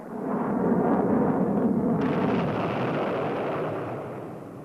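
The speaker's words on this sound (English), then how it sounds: "Field trials like this looked impressive as the shoulder-fired missile locked onto its target." A Stinger shoulder-fired missile in a field trial gives a deep, roaring blast that swells quickly and holds as a broad rumbling rush for several seconds before slowly fading, heard alone without voices.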